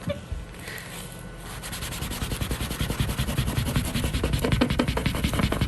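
Repeated rubbing of a sticker onto a surface, a soft rhythmic scrubbing that grows steadier and louder over several seconds, close by with no talk.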